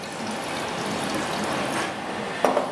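Distilled water pours steadily into a bleach (sodium hypochlorite) solution in a lab container, a continuous close trickle ending with a couple of brief splashy clinks.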